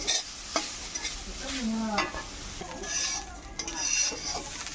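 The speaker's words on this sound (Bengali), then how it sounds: "অল্প অল্প করে সবগুলো ভেজে নিতেছি।" Grated coconut frying in a pan in small batches, a constant crackling sizzle with repeated scraping stirs and light utensil clinks, close and moderately loud with no voices.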